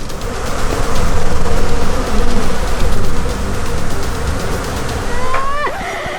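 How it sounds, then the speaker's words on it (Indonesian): Swarm of bees buzzing loudly around a bee nest taken down from a house roof, a dense continuous drone that swells and dips, close, with a brief squeal near the end. "yang evakuasi sarang-sarang lebah yang ada di atap rumah tetangga"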